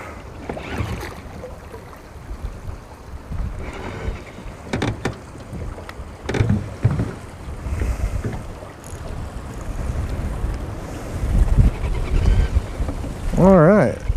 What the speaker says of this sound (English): the wind just picked up to 20 miles an hour out of nowhere.